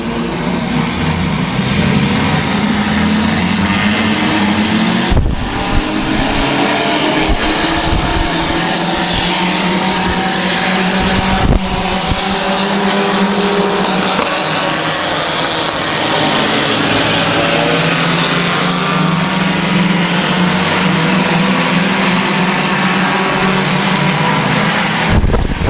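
Compact race cars roar around the oval at Midvale Speedway in a dense, loud, continuous wash of engine noise, with pitch rising and falling as cars pass and brief dips between passes.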